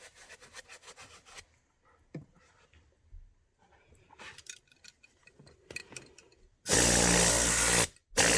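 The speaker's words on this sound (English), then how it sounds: "My compressor kicked on" An air compressor kicks on abruptly and runs with a loud, steady motor drone. A short stop and restart follow, after quieter scrubbing and rubbing sounds from spot cleaning a children's car seat with an air gun.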